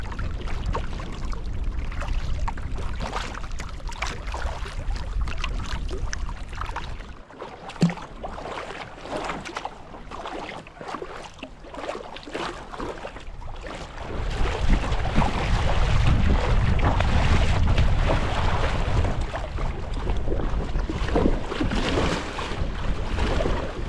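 Wind roars and waves slap and splash around a touring kayak on a windy High Sierra lake. The rushing noise is loud and steady, with a brief lull partway through before it builds again.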